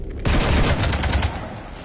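Rapid automatic gunfire fills a fight in the Mass Effect 3 video game, a loud, dense burst of shots and impacts lasting over a second before it trails off, with no voices over it.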